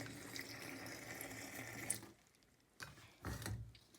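Tap water runs into a sink while kefir grains are rinsed, a steady hissing stream that stops abruptly midway, followed by a few splashy clunks and drips.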